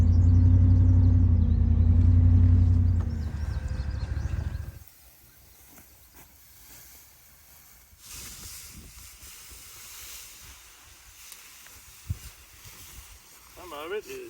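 A vehicle backs a hay trailer out on a Tennessee farm, a loud low engine rumble for about five seconds that drops to a faint idle with light wind and rattling.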